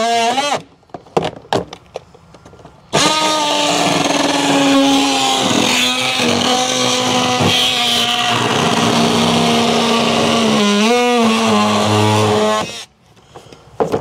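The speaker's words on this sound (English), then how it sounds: "So here he is using the multi-tool." An oscillating multi-tool fitted with a metal blade cuts through material during house underpinning work, giving a loud, steady buzzing drone for about ten seconds, with brief starts and bursts before and after.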